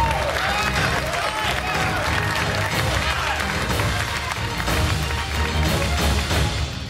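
Home cooks in a televised cooking competition studio cheer and applaud loudly and continuously, a dense crowd roar with clapping and whoops filling the whole stretch.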